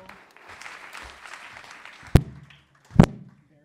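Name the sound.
audience applause for a guest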